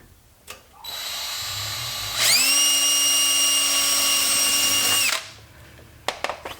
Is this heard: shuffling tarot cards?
no